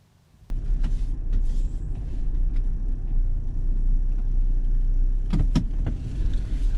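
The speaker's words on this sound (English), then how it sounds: "I'm just going to take it for a quick drive just to see if everything's working correctly." A Toyota 4Runner on a short test drive, heard from inside as a steady low road rumble and engine drone that starts abruptly, with a few sharp clicks near the end.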